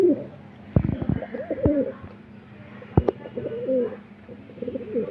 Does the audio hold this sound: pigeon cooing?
yes